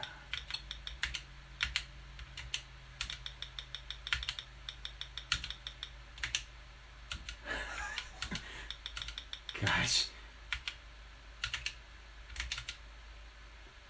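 Keys of an Apple IIe keyboard clack in quick irregular bursts while Pac-Man is played, close and fairly quiet, with a person speaking briefly in between.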